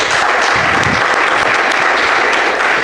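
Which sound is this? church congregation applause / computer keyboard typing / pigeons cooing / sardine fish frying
church congregation applause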